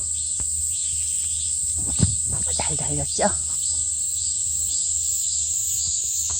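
Cicadas shrill in a steady, continuous drone across a family vegetable garden, loud and unbroken throughout, with brief speech and a couple of short knocks passing underneath.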